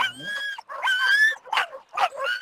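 Sled dog team at a North American championship race, with several loud, close barks and yips in quick succession, some drawn out into whiny tones.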